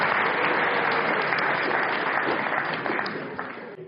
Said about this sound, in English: Give them both a nice round of applause.